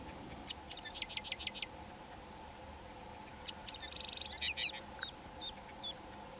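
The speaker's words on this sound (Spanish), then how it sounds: "Una de ellas trinaba para reclamar el territorio ante un posible intruso de su especie." A sedge wren in rural grassland in winter sings short, rapid trilling bursts at a moderate distance. Quieter chips follow, over a steady low hum of background noise.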